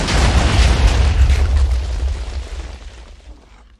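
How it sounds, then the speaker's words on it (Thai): A single loud, booming Minecraft explosion with a deep rumble that rolls on and gradually fades away. "มึงระเบิดได้ไง"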